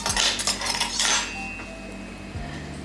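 A metal spoon scrapes soft, ripe avocado flesh from its skin, giving two bursts of close scraping and clinking against the shell, then a quieter pause with a faint ringing tone.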